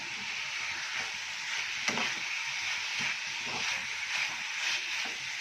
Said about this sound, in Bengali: মাংসটা একটু ভাজা ভাজা মতন হবে হালকা